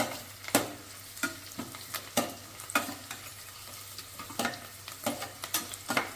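Chicken pieces frying in a pan for chicken kaju fry, steady sizzle with regular sharp scraping stirs about every half second, close up, no talk.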